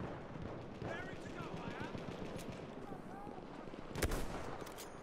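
Battlefield 1 video game combat, rapid machine-gun fire and distant battlefield shots rumbling steadily at low volume, with one louder blast near the end.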